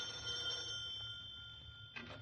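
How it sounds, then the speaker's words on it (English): A doorbell in an old-time radio drama rings faintly with a thin, steady bell-like tone in a hushed room, followed by a brief louder chime near the end. "That's the doorbell."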